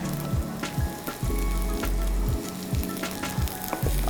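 Vegetables for paneer jalfrezi sauté in a kadai with a loud, steady sizzle, broken by regular scraping stirs every half second or so, close up with no talking.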